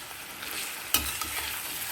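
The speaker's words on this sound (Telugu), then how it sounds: "ఉల్లిపాయ వేగేటప్పుడే మనం కొంచెం పసుపు వేసేసుకుందాం" Onions frying with turmeric in a pan produce a steady, close hiss, with a single stirring scrape near the middle and no voices.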